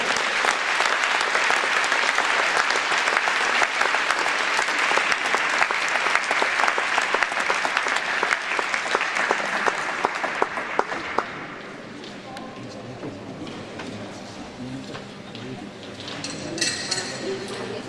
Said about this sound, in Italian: Un applauso al maestro Tumul Maggiore